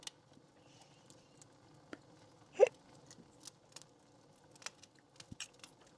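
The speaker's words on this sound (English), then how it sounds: "Oh, hiccups." A single short hiccup from a character in the video game Beacon Pines stands out once against quiet ambient game sounds and faint clicks.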